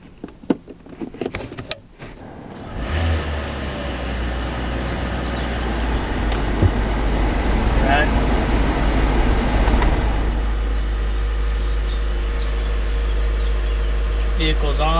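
A Hyundai Ioniq car engine, after a misfire repair, cranks and catches after some clicks and handling noise, then settles into a steady low idle hum that continues.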